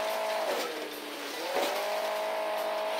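Car engine in the Hill Climb Racing 2 video game, a steady revving drone with a couple of brief pitch dips as the car climbs a hill, loud and continuous throughout.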